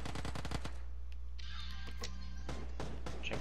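PUBG gunfire crackles as a quick burst of rapid shots, followed by scattered single reports a little later, all fairly distant and faint over a steady low hum.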